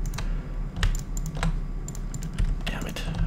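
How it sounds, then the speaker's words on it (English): Mouse and keyboard clicks from Minecraft play tap out in quick, uneven clusters close to the microphone, loud against a low hum of game sound, with speech mixed in. "Sorry for the clicking."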